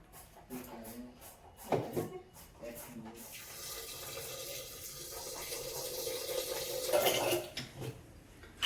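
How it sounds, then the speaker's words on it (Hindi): Water poured into a pressure cooker holding dal and rice in a home kitchen, a steady running, splashing flow that follows a few brief knocks and handling sounds and continues at moderate level, with no talking. "अब उसमें पानी चढ़ा देती हूँ।"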